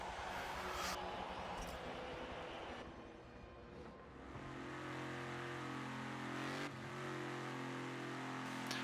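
A 1977 Holden drifts at Sonoma Raceway Full Circuit in Forza Motorsport 7, its engine revving loudly and steadily, with a dip as it lifts off and then roars back up alongside a lower engine drone.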